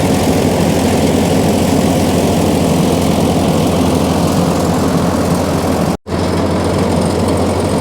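Ford tractor engine running steadily, a loud, close, low rumbling drone with a constant throb, briefly cut off by a short dropout near the end before resuming.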